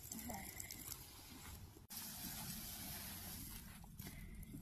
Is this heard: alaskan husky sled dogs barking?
no